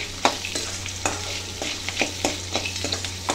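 Garlic fries in a pan for a vattal kulambu, a steady close sizzle broken by repeated sharp stirring scrapes and clinks at an irregular rhythm, with no talking.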